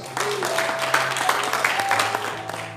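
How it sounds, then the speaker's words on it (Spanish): Church congregation clapping for several seconds, a broad wash of applause with a steady low organ or keyboard tone sustained beneath it and faint voices mixed in. "Denle el aplauso a Dios."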